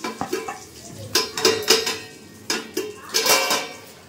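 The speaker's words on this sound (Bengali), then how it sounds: "এই যে দাও, নেড়ে দাও।" A spoon or ladle stirs chutney in a pan with a little oil, sounding as irregular clinks and scrapes against the metal in short bursts, close by with a faint sizzle and no speech.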